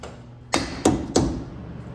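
Three sharp taps from a soft face hammer, evenly spaced, each a dull thud with a short ring, close by in an otherwise quiet space, during a 2006 Chevy Silverado front wheel hub replacement.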